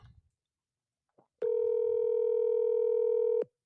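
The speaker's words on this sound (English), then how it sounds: "Let's make another phone call here." A telephone dial tone sounds steadily for about two seconds as a call is placed, a clean continuous tone alone with no talk, preceded by a faint click.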